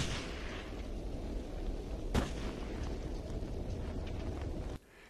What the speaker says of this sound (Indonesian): Baku tembak pun dimulai.